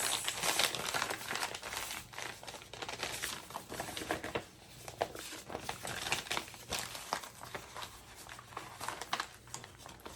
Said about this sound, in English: I'm even gonna take the paper one that comes with it. Fold that up so I have this.